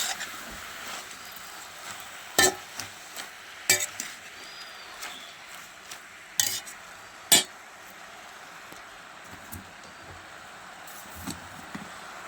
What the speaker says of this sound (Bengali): সব দিব, নাড়াচাড়া করে নেবো।